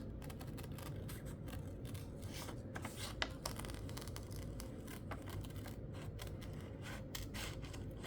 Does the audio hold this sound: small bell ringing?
no